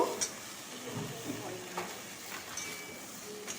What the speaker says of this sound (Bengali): এবার পুঁই শাকগুলোকে দিয়ে দেবো দিয়ে খানিক্ষণ নাড়াচাড়া করব